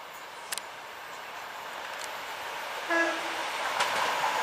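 A passenger train on the Oban to Glasgow Queen Street service passes Craigendoran station, a broad steady rumble with a brief horn-like tone near the middle, heard from the platform at moderate distance.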